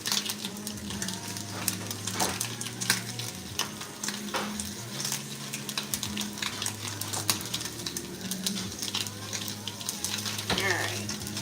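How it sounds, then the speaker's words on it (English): Bacon strips frying in a pan, cooked until crispy, give a steady crackling sizzle throughout, with occasional clinks and background hum; a voice speaks briefly nearby. "Alright, the bacon is cooking."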